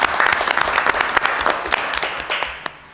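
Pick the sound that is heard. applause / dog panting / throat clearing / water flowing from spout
applause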